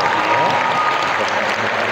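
A room of students applauds a speaker at a public speaking session at an Islamic boarding school, steady dense clapping that runs the whole time without a break.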